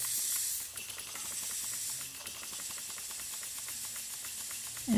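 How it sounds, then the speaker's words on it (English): Compressed air hisses through a live steam engine, a loud continuous rushing hiss with rapid ticking pulses as the mechanism cycles, close by and alone. "then I'll run some compressed air in there to dry everything out"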